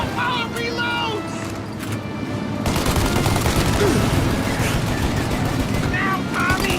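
Rapid gunfire in the video game Mafia: Definitive Edition rattles in a dense continuous fusillade, loud and close, while characters shout over it.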